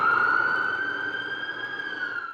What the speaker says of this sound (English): Sirens wail through the village